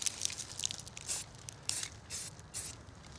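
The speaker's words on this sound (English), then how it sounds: "lightly spray it on there," Khaki camouflage paint sprayed onto a shotgun, a series of short hissing aerosol bursts, several in quick succession, close and fairly quiet with no talk.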